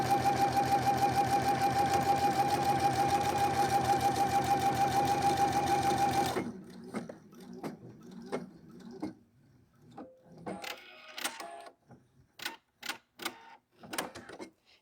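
Sewing machine stitching quilt pieces into a pinwheel block, a fast steady mechanical chatter for about six seconds, then stopping, followed by scattered clicks, taps and fabric handling.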